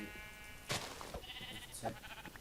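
Several sheep bleat in the video game Minecraft, short wavering cries repeated a few times over a quiet background, fairly close.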